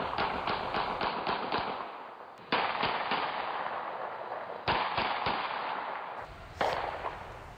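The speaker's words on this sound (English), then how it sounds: "what we want to play for our viewers right now is what gunfire sounds like on the" Gunfire picked up by a ShotSpotter detection system, a rapid string of sharp cracking shots followed by further spaced bursts, reverberant and distant-sounding.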